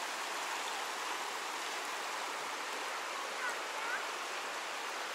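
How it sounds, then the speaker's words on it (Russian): A fast, cold Alpine mountain river in Austria rushes in a steady, even hiss of flowing water, constant and moderately loud throughout with no talk. "Но горная река очень быстрая, да."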